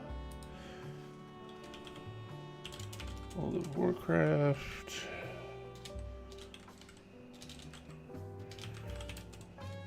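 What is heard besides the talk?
typing on a computer keyboard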